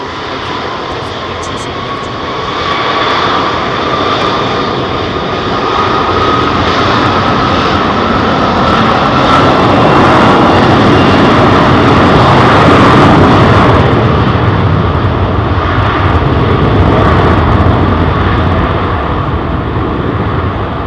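An airliner powered by Rolls-Royce Trent jet engines takes off at London Heathrow, its roar building from a lower rumble to a loud, close, sustained blast that holds steady before easing slightly.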